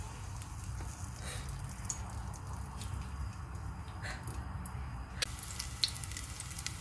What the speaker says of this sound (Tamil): இப்போ நம்ம நெய்யை ஆட் பண்ணிக்கலாம். இப்போ நான் ஒரு பிரிஞ்சி இலை, 2 கிராம்பு